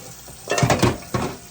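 A mixing bowl being washed in a home kitchen, with a few loud clatters and scrapes of the bowl against the sink in a short burst, close by, over a low background, with no talking.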